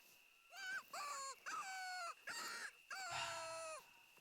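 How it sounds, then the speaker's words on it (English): A pigeon in theHunter: Call of the Wild gives a short series of five clear, throaty calls with brief gaps between them, fairly close and alone against quiet surroundings. "Pigeon over there."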